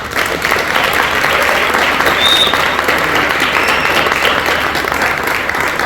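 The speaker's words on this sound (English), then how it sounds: "congratulate the four contestants that we have here today with a great round of applause" Sustained applause from a crowd congratulating four contestants at a Samsung Bespoke Design Challenge winner announcement, steady and loud throughout with no gaps.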